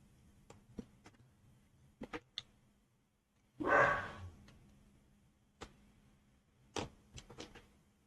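Dogs inside a house barking, one loud muffled bark burst standing out among scattered short distant thumps and yips in a quiet night setting.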